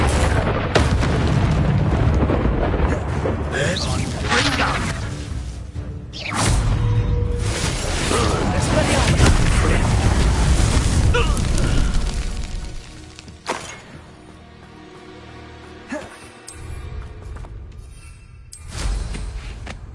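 Repeated Confringo blasting-spell explosions from the Hogwarts Legacy video game: heavy booming bursts with crackling debris and whooshes, loud and dense through most of the stretch, then thinning to scattered blasts before a final burst.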